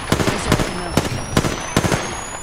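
Rapid gunfire in the battle-royale video game Apex Legends comes in tight bursts of loud, sharp shots about every half second. A high whine runs underneath, and voices talk over the shooting.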